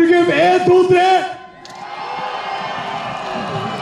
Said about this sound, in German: nå må vi få en kjempeapplaus fra